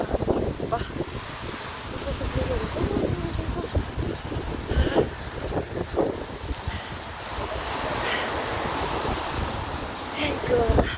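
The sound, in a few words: strong wind by the sea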